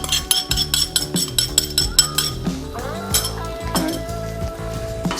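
Spicy sauce tipped into a hot wok of frying Singapore noodles, sizzling loudly with a steady hiss, while metal utensils clink and scrape against the pan in quick, repeated taps.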